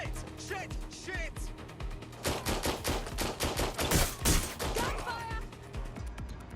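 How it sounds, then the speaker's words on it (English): Rapid bursts of automatic gunfire in the video game Watch Dogs: Legion crackle in quick succession, loud and close, with a voice shouting over parts of it. "Gunfire!"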